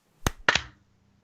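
A close hand clap made to sync a recording, heard as a sharp crack followed by a second quick slap a fraction of a second later, alone in an otherwise quiet room.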